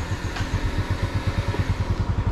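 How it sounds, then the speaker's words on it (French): A Harley-Davidson motorcycle engine rumbles with a deep, loping pulse on an island road in Cat Ba, Vietnam, its low throbbing beat steady and close with broad road and wind noise over it. "Vous êtes prêts pour ce son du moteur ultra puissant?"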